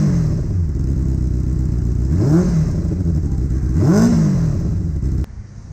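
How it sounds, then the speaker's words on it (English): A Benelli 600i inline four-cylinder motorcycle engine idles with a smooth, buzzy exhaust note, revved twice in short bursts, close and loud, then cuts off abruptly near the end. "this is how an inline 4-cylinder sounds like"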